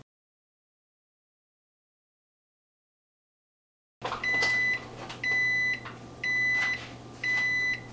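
A Zojirushi breadmaker signals the end of its sourdough dough cycle with four evenly spaced electronic beeps after a stretch of silence, each tone clear and steady over a faint low hum.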